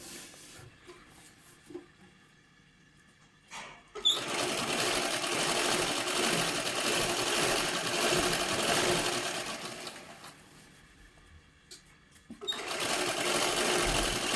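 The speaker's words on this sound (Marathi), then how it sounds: "एकदम सावकाशमध्ये आपल्याला हे शिलाई करत यायचं आहे" A sewing machine stitches the fall onto a saree, running in two long steady bursts separated by quiet pauses, close and loud.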